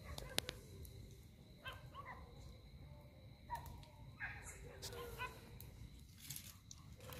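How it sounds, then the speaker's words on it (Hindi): Dogs at a cremation ground on a cold night, yipping, whimpering and giving short barks in scattered bursts at moderate distance, with people talking faintly in the background. "यहाँ पर देखो कुत्ते भी आ गए हैं ठंड की वजह से"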